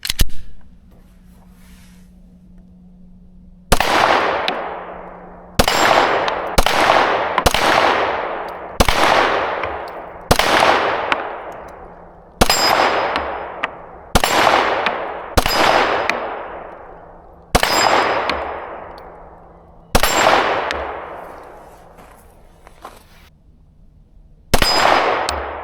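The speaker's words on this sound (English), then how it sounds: "I'm going to shoot down at the large steel targets that I have down there." Rapid gunfire rings out across a range, each shot followed by the bright, decaying clang of large steel targets downrange; about a dozen loud impacts come in uneven bursts with short pauses between.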